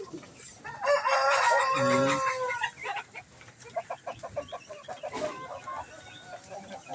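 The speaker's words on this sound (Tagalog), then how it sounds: "Ang laking manok nito." A rooster crows loudly nearby, followed by a run of hens clucking in quick, uneven bursts close at hand.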